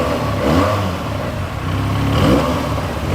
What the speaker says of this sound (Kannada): ಸೊ ಇದು ಸ್ಟಾರ್ಟ್ ಮಾಡಿ ತೋರಿಸ್ತೀನಿ ಗಾಡಿ.